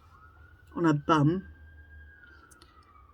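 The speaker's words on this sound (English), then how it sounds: "Please excuse the sirens." A faint, steady police siren wails in the distance outside throughout, while a person speaks a few quiet words.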